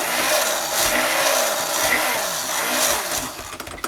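A blender whirs steadily while mixing shaving soap in a crockpot, a loud continuous motor roar with slight wobbles that sputters toward the end.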